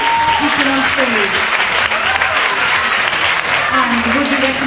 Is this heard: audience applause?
yes